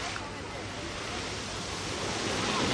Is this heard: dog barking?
no